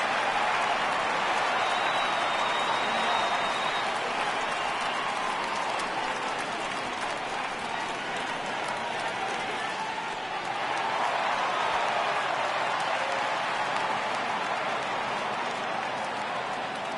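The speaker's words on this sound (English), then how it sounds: "the home crowd is absolutely eating this up" A home baseball crowd cheers and applauds a leadoff triple, a broad steady roar of clapping and voices sustained for the whole stretch, distant and washy with no single voice standing out.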